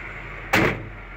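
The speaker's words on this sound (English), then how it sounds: "Doors close nicely." Door of a 1984 Chevrolet C10 prerunner truck with a Duramax swap shutting, a single solid thunk close by over a steady background hum.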